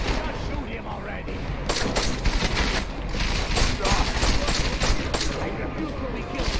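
Sustained gunfire in the video game Deus Ex: Mankind Divided from a scattergun, loud and continuous with dense overlapping shots and bursts, mixed under game voices and effects throughout.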